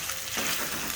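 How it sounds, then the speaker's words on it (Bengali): Onion, garlic and dried chili paste hitting hot mustard oil, a short burst of soft frying hiss that swells partway through and holds steady. "এই তো তেলে পেঁয়াজ, রসুন আর শুকনো মরিচ বাটাটা দিয়ে দিলাম।"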